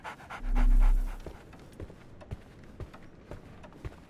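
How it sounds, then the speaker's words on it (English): A dog in a video game pants in quick, close breaths with soft paw steps, after a brief low tone near the start. "So, Barnes has a dog now"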